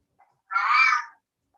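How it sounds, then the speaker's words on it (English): A single clear cat meow, close and fairly loud, lasting about half a second, heard alone in an otherwise quiet room. "And that is my cat."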